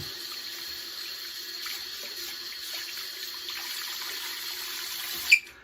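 Tap water runs steadily into a sink while a shaving cup or brush is rinsed, a constant close splashing hiss that ends with a brief clatter.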